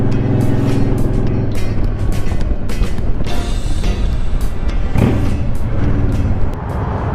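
City street traffic in New York City, with a dense, steady roar of cars and trucks rolling past close by and occasional louder swells as vehicles pass, continuous throughout with no talking.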